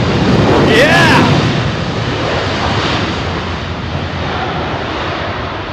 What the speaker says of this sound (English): A321P2F freighter with Titan, operated by Virgin Atlantic and their freighter division.